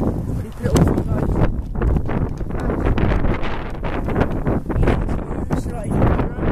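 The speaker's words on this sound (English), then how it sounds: "Pretty windy now." Strong wind by a lake buffets the microphone in loud, continuous rumbling gusts, with a voice speaking briefly amid the blustering roar.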